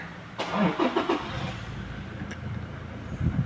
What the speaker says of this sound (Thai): เบรกกดปุ่มสตาร์ทค่ะ